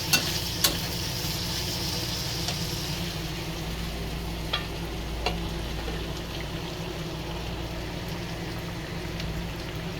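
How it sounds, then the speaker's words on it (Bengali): Garlic, onion and green chillies frying in a pan for mustard greens, a steady soft sizzle with occasional light clicks of stirring, no voices. "এখানে আমি সরিষার শাক ভাজি করব, তাই রসুন আগে দিয়ে দিলাম।"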